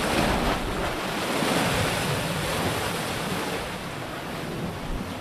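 High-tide surf rolls steadily onto White Beach in Boracay, a loud, continuous wash of waves with wind rushing across the microphone and no voices.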